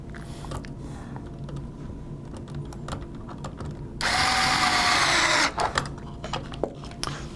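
A powered screwdriver runs in one steady whir for about a second and a half, driving screws into a replacement front gear platform, with faint clicks of handling before and after.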